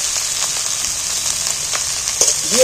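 Minced meat frying in oil with onions and spices, a steady close sizzle running throughout with occasional stirring scrapes.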